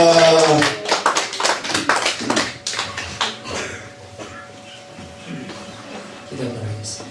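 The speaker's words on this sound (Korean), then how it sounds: "박수로 환영합니다." Church congregation at a revival gathering clapping to welcome a visiting preacher, a burst of close hand claps that thins out over several seconds amid voices and room noise.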